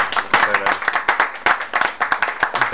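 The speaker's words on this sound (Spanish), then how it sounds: "le damos un fuerte aplauso a don Javier Araya" A gathering in Costa Rica applauds Javier Araya, an enduro and cross-country motorcycle racer. Uneven, fairly sparse claps from a small crowd sound close and overlap with a speaking voice.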